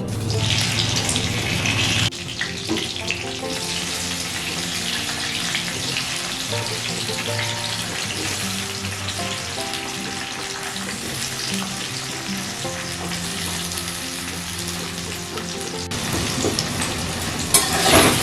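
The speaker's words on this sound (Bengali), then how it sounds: "এখন কুলগুলোকে তেলের সঙ্গে 1 মিনিটের মতন এইভাবে নাড়াচাড়া করে নেব।" Jujubes are tossed and stirred in hot oil for a Bengali pickle, giving a steady, loud sizzle with spoon-and-pan movement that runs nearly without pause throughout, and no talking.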